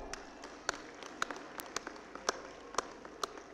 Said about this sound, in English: Let's all give a big clap.